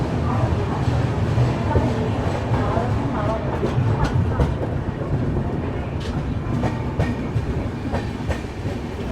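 Secunderabad Rajdhani Express running, a loud continuous rumble of wheels with rhythmic clickety-clack over rail joints, heard from inside the moving train with voices faintly in the background.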